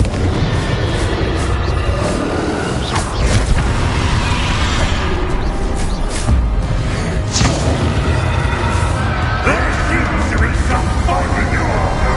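Confringo fire spell explosions in the Hogwarts Legacy video game, a loud, sustained booming rumble with repeated sharp blasts and crackling bursts, with a voice speaking over the din.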